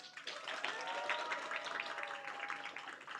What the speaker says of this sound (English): Please give us your biggest round of applause.